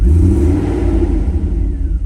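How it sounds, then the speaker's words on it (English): A 1991 Mercedes 500SL R129 V8 idles steadily, a close, loud and even low rumble with a slight uneven pulse and no voices. "it started right up, no issues, idling pretty good, no hesitation on throttle"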